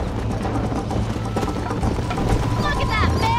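Galloping horse hooves from the Western video game Red Dead, a steady rhythmic clip-clop under continuous game music and ambience, with a brief whinny-like tonal sweep near the end.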